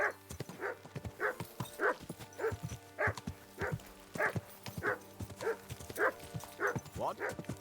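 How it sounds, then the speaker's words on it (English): A dog barks repeatedly in Kingdom Come: Deliverance 2, about nine evenly spaced, close barks in a steady rhythm, with speech in the background. "Oh my god, stop barking."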